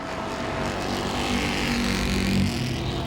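Race cars at Langley Speedway roar together through a turn, a dense, loud and sustained engine blare with no break for the whole moment.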